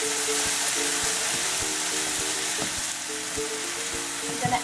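Chopped Roma tomatoes sauté in a pan, giving a steady, close sizzle with repeated soft scraping stir strokes, with no voice present.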